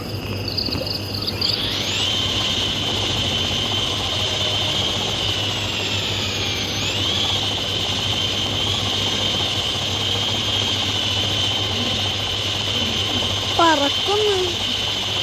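Helicopter engine and rotor drone in the video game Dude Theft Wars, a steady loud hum with a high whine that shifts in pitch, continuous throughout with faint game sounds and chirps near the end.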